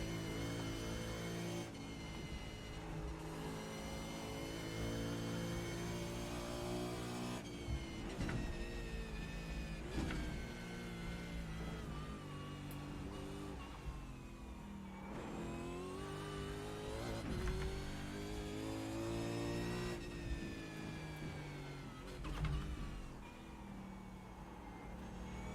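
A race car in the iRacing video game laps Bathurst, its engine revving hard and dropping sharply at repeated upshifts, loud and continuous for the whole stretch.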